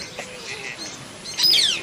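Parrots call inside a geodesic dome aviary at a jungle safari park: scattered short chirps and squawks at moderate distance, ending in a louder, sharper screech.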